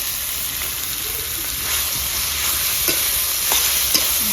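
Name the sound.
stirring and frying cauliflower stalks with mustard paste in a pan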